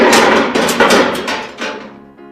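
A released mass running along a physics demonstration track and striking a spring at the end: a loud, clattering burst of metallic knocks and rattles close by that fades within about two seconds.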